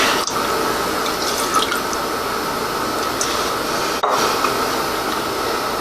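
Homemade plum wine is poured back into a container, a steady close trickle and splash of liquid running continuously, with a couple of brief knocks of handling.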